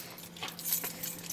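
A bunch of keys jangles briefly near a Ford car, a quick bright metallic rattle of small clinks at close range.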